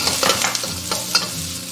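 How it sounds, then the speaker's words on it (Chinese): Ginger and garlic stir-fried with pork belly in a hot wok: crackling oil sizzle with several quick scraping strokes of a spatula, close and lively, no speech. "炒香以后，我们下入姜蒜炒香。"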